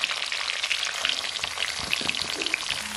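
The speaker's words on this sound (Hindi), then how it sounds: "इसको थोड़ी देर के लिए ना हाई फ्लेम पे अब थोड़ा फ्राई कर लो आप" Chicken pieces frying in oil over a high flame for South Indian chicken chukka, a dense, close crackling sizzle that runs continuously with faint stirring.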